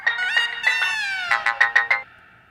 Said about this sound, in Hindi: अग्रवाल जी का फोन थोड़ी देर में आने वाला है।